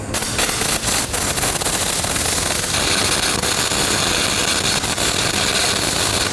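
Welding arc crackling and popping while laying a weld, a dense continuous harsh buzz with rapid popping bursts, loud and close, with no talk over it.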